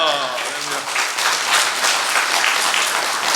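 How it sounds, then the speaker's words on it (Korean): Korean church congregation clapping to welcome a pastor at a 105th-anniversary revival service, dense steady applause filling the hall throughout. "오른손 높이 들고 할렐루야하고 손뼉 하면서 우리 목사님 환영하고 맞이하도록 하겠습니다"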